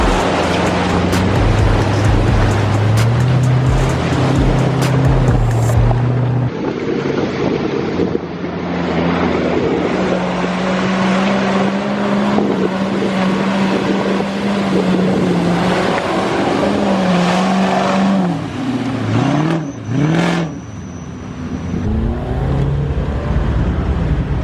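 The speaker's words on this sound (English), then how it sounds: "not every day you see a Touareg going off-roading." A Volkswagen Touareg driving off-road on a 4x4 run along the Ashley River, its engine droning loud and close and shifting in pitch as it revs, with heavy wind buffeting throughout.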